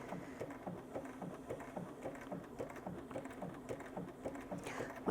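A Bernina S-325 sewing machine running, its needle clattering in a fast, even, quiet rhythm of repeated mechanical ticks, close by with no voices.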